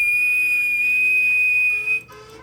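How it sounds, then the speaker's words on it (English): Thomas the Tank Engine blowing his whistle, a single loud, sustained high tone held for about two seconds before cutting off sharply, with faint rumbling underneath. "Thomas got ready with his whistle."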